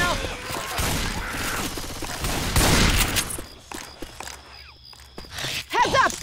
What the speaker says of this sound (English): Y'all got to stop shooting me.